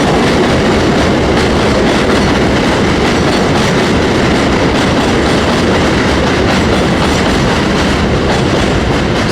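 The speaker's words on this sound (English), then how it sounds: "sorry, the train." A train rumbles past close by, a steady loud roar of wheels on rails with rhythmic clacking that fills the whole stretch.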